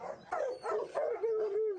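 Hunting dogs used in a big-game drive hunt bark and yelp in several quick, close bursts, with a rising whine-like tone between barks.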